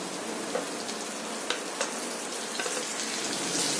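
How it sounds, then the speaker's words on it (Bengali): Ginger garlic paste dropped into hot oil for a Bengali potol chingri curry sizzles steadily, a close, bright hiss with small pops and crackles scattered through it. "এইবার আমি তেলেতে এই আদা রসুন বাটাটা দিয়ে দেবো"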